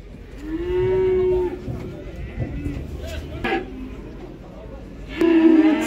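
Cattle at a livestock bazaar moo loudly and close by, with one long low call early on and another at the end, while people talk over the market background noise.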